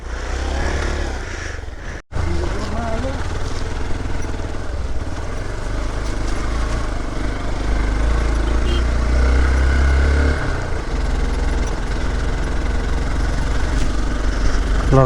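A motorcycle engine runs steadily up close while the bike crawls along a slippery rural road near Dhorpatan, a loud continuous mid-pitched drone with a brief dropout early on.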